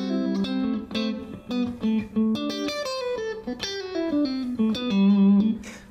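Electric guitar played through a Red Plate RP5OR amp with the mid switch pulled for a deeper, fuller tone, picking a clean melodic line of sustained notes that rise and fall, close and steady, with no talking.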